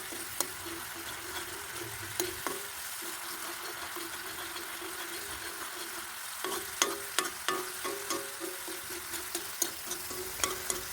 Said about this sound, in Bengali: এগুলো লাগাতার নাড়তে হবে যেন পুড়ে না যায় এবং কড়াইয়ের সাথে লেগে না যায়।